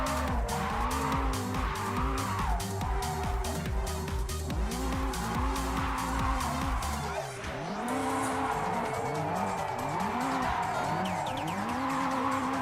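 Japanese-built car drifting with continuous loud tire squeal and skidding over a roaring, revving engine, sustained throughout with a brief dip as the car nearly spins before resuming.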